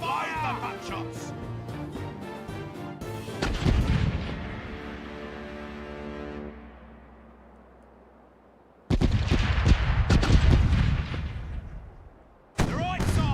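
Ship cannons fire broadsides in Caribbean Legend, heavy booming volleys rolling in bursts with long echoing decays and near silence between salvos, with a voice shouting over them.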